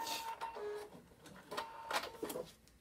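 A sewing machine runs a short backstitch to lock the seam on a small fabric pouch, giving quick mechanical bursts of stitching close up with no voice over it.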